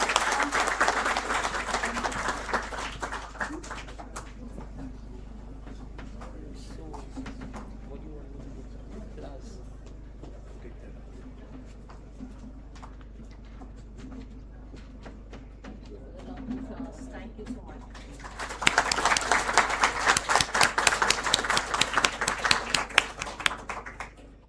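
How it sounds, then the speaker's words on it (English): An audience applauds at a moot court prize distribution ceremony, with bursts of clapping at the start and again near the end, separated by a long quieter stretch of softer scattered claps and murmuring voices. "A huge round of applause."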